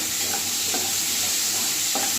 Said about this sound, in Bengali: তো দেখো আলুটা প্রায় ভাজা ভাজা হয়ে গেছে।